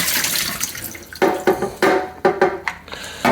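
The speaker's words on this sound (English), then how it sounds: "the contents of the drip tray can go straight down the sink" Liquid from the drip tray of a Melitta Latticia OT 600 series coffee machine is tipped into a sink, giving a run of close splashes and gurgles in irregular bursts, then fading trickles.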